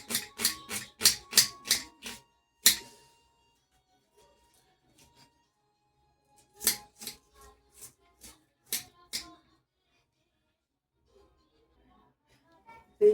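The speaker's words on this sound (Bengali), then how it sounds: "তো এখন আমি ডিমটা অমলেট করার জন্য পেঁয়াজটা কুচি করে নিই।" A knife chops onion on a board for an omelette: a quick run of sharp, close chops, a pause, then a second, more scattered series of cuts before quiet returns.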